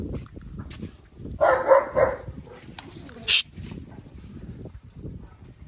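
Dogs barking at night in a garden, a burst of loud barks around the middle and a short sharp yelp soon after, with a voice and ambient noise throughout.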